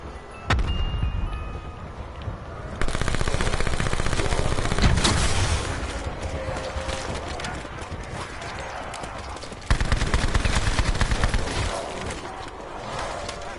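Rapid machine gun fire in Call of Duty Black Ops 4, dense bursts running through most of the stretch with clattering hooves and other game effects mixed in, loud and close.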